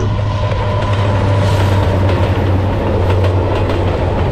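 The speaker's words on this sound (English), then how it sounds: "train number 2" A train rolls past close by in Alaska, a steady loud rumble with a low hum and rhythmic rattling of wheels and cars throughout.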